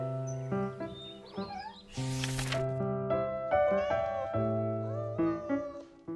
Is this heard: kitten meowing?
yes